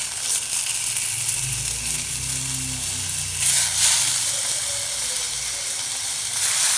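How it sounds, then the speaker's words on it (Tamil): Rasam ingredients, including mashed tomato, sautéing in hot oil give a steady, close sizzle with a soft hiss that swells midway, continuous and without talk. "எல்லாம் போட்டு நல்லா எண்ணெயில் கொஞ்சம் வதக்கிடுவோம்."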